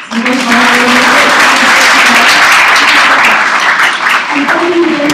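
An audience at a film screening and discussion breaks into loud, sustained applause, a thick wash of clapping from many hands, with a voice speaking over it at the start and end.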